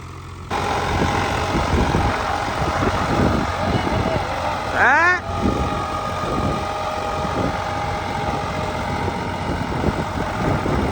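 A tractor engine idles in a steady low rumble throughout, with voices talking over it and a brief whistle partway through.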